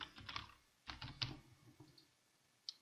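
Short bursts of typing on a computer keyboard, a few quick clusters of clicks separated by pauses, fairly quiet and close, with no talking.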